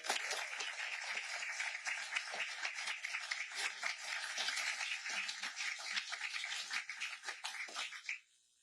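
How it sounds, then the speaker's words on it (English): An audience at a scholarship announcement applauds, a thick, even stretch of many hands clapping, fairly quiet and heard from a distance, fading out abruptly near the end. "We need to have another round of applause for that one"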